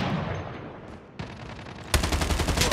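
Gunfire rings out in a Call of Duty war game, building to a loud, sustained burst of rapid shots near the end after a quieter stretch.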